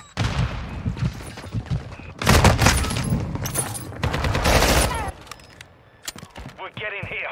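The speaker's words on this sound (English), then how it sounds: "Semtex out!" Gunfire and grenade blasts in Call of Duty Modern Warfare II at the Himmelmatt Expo map: bursts of rifle fire and a loud booming explosion around the middle, dense and close, with shouted voices mixed in.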